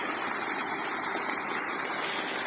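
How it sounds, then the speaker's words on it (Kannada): Water keeps flowing from a pump that runs without electricity or a motor, a continuous close rushing and gurgling stream with no voices. "ನೀರು ಹಂಗೆ ಬರ್ತಾನೆ ಇರುತ್ತೆ"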